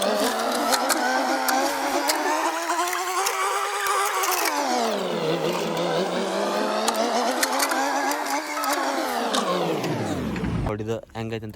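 A backhoe loader's diesel engine runs steadily near a farm pond being dug in Karnataka, its tone rising and falling as the load changes, loud and continuous before cutting off near the end.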